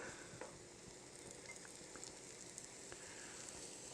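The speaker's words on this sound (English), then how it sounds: "we're just going to fry these for 3 or 4 minutes until they get soft and a bit of color" Sliced mushrooms sizzle and fry in hot oil in a pan, a steady, fairly quiet crackling hiss with scattered small pops throughout.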